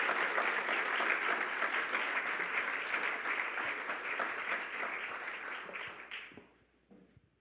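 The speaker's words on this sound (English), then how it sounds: "So if you could give them all a warm round of applause, Boulabus, and over to you." An audience at a Carter Center event in Atlanta gives a warm round of applause, steady dense clapping that gradually fades to a few scattered claps.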